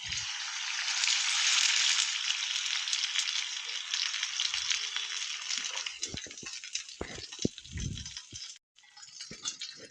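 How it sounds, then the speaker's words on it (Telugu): Water is poured into a pan of fried onions, green chillies and ginger, setting off a loud sizzling hiss that slowly dies down, followed by scattered clinks and stirring sounds near the stove. "అవి వేగిపోయినాయి వాటర్ పోసేసుకోవాలి"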